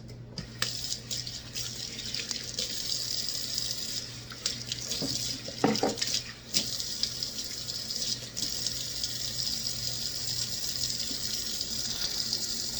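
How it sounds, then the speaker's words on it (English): Water runs steadily from a kitchen tap into a sink while someone washes their hands after shaping salmon burger patties, a continuous close gush with a few brief splashes and clatters partway through. "Let me wash my hands."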